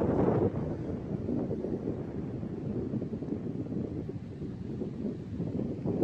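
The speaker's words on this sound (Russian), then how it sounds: "Сильный ветер, очень сильный ветер." Strong wind roars and buffets the microphone without a break, a dense low rumble filling the whole stretch.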